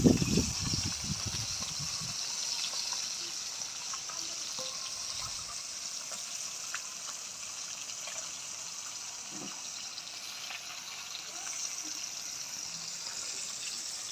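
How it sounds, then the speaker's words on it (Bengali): Insect-damaged eggplant being rinsed under a running kitchen tap, a steady close gush of water with a brief handling clatter at the start and no speech. "মাছটা ভাজা হতে হতে আমি বেগুনটাকে ধুয়ে নিই।"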